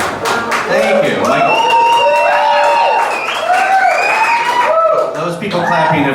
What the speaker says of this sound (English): Those people clapping have never heard a podcast in their life.